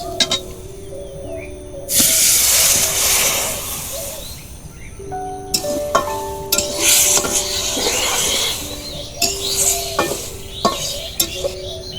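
Water poured into a hot pan of fried dried fish sets off loud, close hissing bursts that flare and fade, mixed with utensil scrapes and clinks against the pan.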